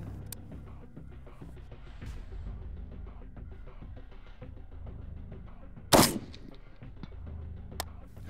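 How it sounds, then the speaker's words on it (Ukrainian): A single sharp marksman rifle shot fired from a tripod cracks out loudly over a steady background of outdoor ambience and low rumble. "Так, зроблю лише ще один постріл."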